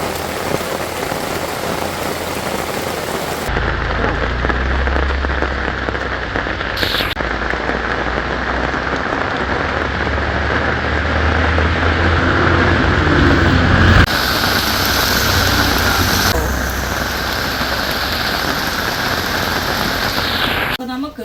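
Heavy rain pours steadily outdoors for about twenty seconds, a loud, dense hiss of drops striking surfaces, with brief shifts in tone as the recording moves, and no clear talking.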